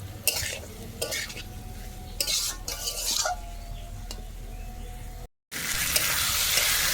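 Potatoes frying in a pan while being stirred, steady sizzling broken by scraping strokes of a utensil against the metal, with a short silent gap before the sizzle resumes.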